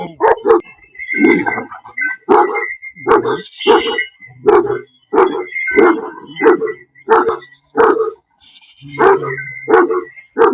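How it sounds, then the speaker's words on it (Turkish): Large Kangal dogs bark in loud, deep bursts close by, a steady run of barks with short pauses and a few yelps between them. "Kon köpeği ya bu taraftaki. Bu kırmızı olan kon köpeği"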